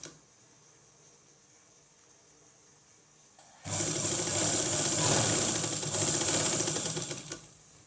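After a quiet start, a sewing machine whirs steadily for about four seconds, close by, as it stitches a straight seam on a naira-cut kurti with gota patti trim.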